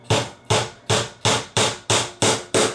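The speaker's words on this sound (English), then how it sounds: "I'll just put all my little nails along the top here" Steady hammer blows driving small nails into a wooden garden sign, seven sharp, loud strikes at an even pace about every third of a second, each ringing briefly before the next.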